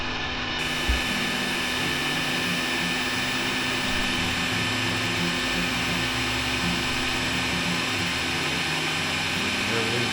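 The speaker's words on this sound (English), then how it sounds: "Go ahead and use the heat gun" A heat gun blows hot air steadily onto freshly connected blinker wiring on a Jeep TJ, a constant whirring hum that runs throughout under faint speech.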